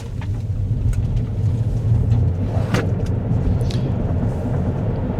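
A Leapmotor C10 in sports mode pulls hard from a standstill toward 60 on very wet, slippery roads, a steady loud low rumble of motor and road noise with tire spray hiss, heard from inside the cabin without talk.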